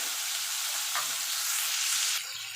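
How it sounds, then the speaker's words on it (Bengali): Prawns fry in hot oil in a pan, a dense continuous close-up sizzle that holds steady and then eases slightly toward the end. "এবার চিংড়ি মাছটা ভেজে নেব"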